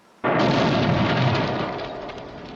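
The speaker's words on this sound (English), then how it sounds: "The first of many large explosions in this flick." A sudden, loud explosion in the 1988 film Phantasm II that erupts and rolls on as a dense, sustained rumble, close and overwhelming.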